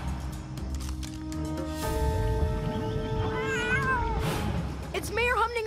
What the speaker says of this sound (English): It's Mayor Humdinger's kittens in that dinosaur costume.